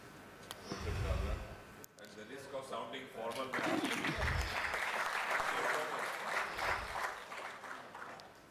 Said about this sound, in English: Can we have a big round of applause for all of them?